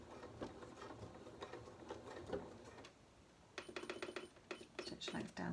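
A sewing machine stitches a lapped zip into a cushion back, running in short, close, rhythmic bursts of needle clatter separated by brief pauses.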